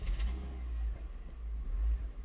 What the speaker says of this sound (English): It's quite lethargic, this engine, because you actually have to rev it a lot before you get anything out of it.